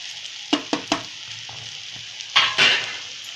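Dried mackerel fish chutney is stirred in a hot pan, with several crisp scraping strokes of a spoon against the metal over a low sizzle, then a louder burst of frying hiss near the end.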